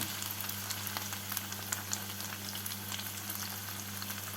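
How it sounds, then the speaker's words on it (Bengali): Honey chicken coated in cornflour stirred in a frying pan, a steady, moderately quiet sizzle with crackling pops and a low hum underneath. "মাংসটাকে নেড়ে দিচ্ছি কর্নফ্লাওয়ার দিয়ে নাড়াচাড়া করে নিয়ে"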